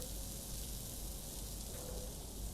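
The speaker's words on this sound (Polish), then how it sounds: "I mam czas teraz na smażenie." Steady, dense sizzle of food frying on a grill in the Fast Food Simulator cooking game, a constant hiss running unbroken without pause or voices.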